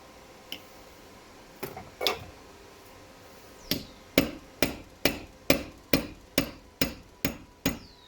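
Sharp metallic hammer taps on a distributor in a Ford Essex 3.0L V6 engine, a few scattered at first, then a steady run of about ten evenly spaced strikes, close and fairly loud.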